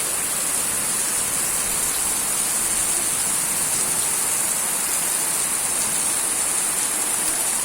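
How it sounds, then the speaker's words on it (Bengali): A dense, even hiss of heavy rain falls continuously, with no thunder or voices over it. "অনেক বৃষ্টি হতেছে এখানেতে"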